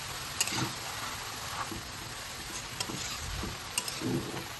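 Banana flower curry with spices and paneer being stirred in a heavy wok, giving soft scraping and occasional clinks over a faint sizzle, close and fairly quiet.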